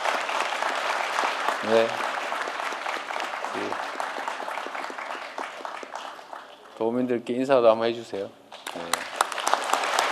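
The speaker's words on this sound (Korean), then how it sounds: "여러분 박수 크게 부탁드립니다" A crowd at a Jeonbuk town hall meeting applauds as the province's National Assembly members step forward, a dense, steady patter of clapping running under a voice speaking over a microphone.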